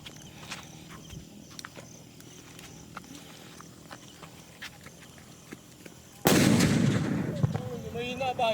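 A King Kong firecracker of the regular kind goes off with a single loud, sharp blast after a quiet stretch, followed by a rumbling tail and scattered echoes.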